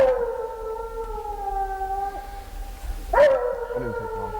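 A hunting hound bays at an animal it has treed near a cornfield on a frosty fall evening. It gives one long, drawn-out howl, and then a second howl breaks out sharply, both loud and close.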